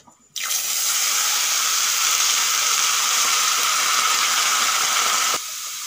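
Banana stem pieces hit hot oil already spiced with dry red chilli, bay leaf and five-spice seeds, setting off a sudden loud, steady hiss that holds evenly for about five seconds before falling back to a softer sizzle.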